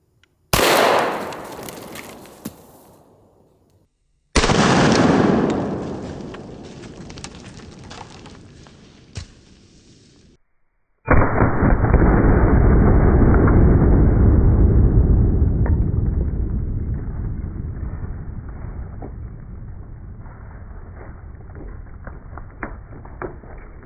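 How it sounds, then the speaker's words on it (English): Three separate shots crack out from a Kriss Vector firing .45 ACP 185 grain +P hollow points at a coconut, each a sharp loud report. The last is followed by a long, heavy roaring decay. "for this one, we're gonna shoot a 185 grain plus P hollow point"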